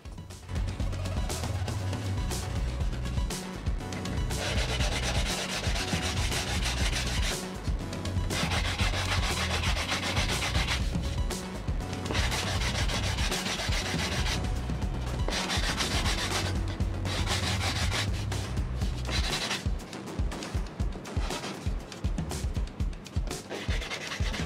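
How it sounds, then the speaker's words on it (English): Hand sanding of a wooden cutting board made on a CNC machine, a steady rhythmic back-and-forth rubbing and scratching, close and continuous with brief pauses between stroke runs. "I've got lots of sanding to do."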